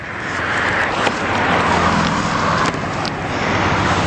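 Steady road traffic at a roundabout, heard from a bicycle on a commute: a continuous broadband rumble and rush of passing cars that stays fairly loud, with a couple of brief sharper clicks along the way.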